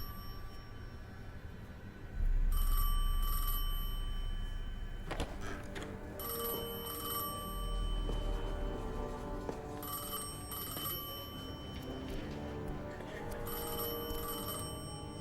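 A telephone bell rings in repeated bursts, a bright metallic trill with pauses between rings, fairly faint in a quiet room and heard alone.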